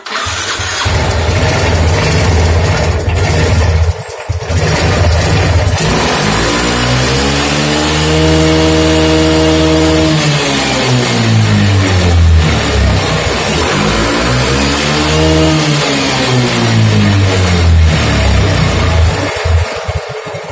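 A Yamaha Mio M3 125 motorcycle engine with a knocking fault revs repeatedly, rising and falling in loud sweeping surges over a steady idle, close and alone.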